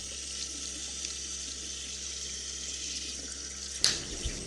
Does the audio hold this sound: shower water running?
yes